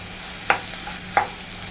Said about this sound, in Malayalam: മുട്ടയൊന്ന് തോന്നു വരുന്നിടം വരെ ഒന്ന് മിക്സ് ചെയ്ത് കൊടുക്കാം